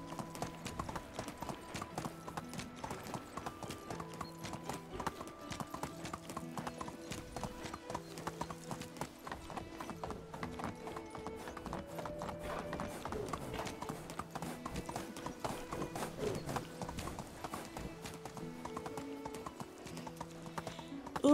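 Horse hooves walking in the medieval survival game Medieval Dynasty, a steady close clip-clop rhythm repeating throughout under background music.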